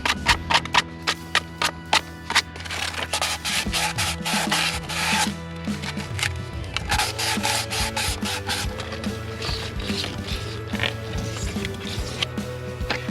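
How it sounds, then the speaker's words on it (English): Rhythmic back-and-forth rubbing of sandpaper on a pipe fitting to take off burrs during a water well tank install, repeated strokes close up, with a few knocks at the start and no talk. "It's also important when sanding it to take off any of these burrs"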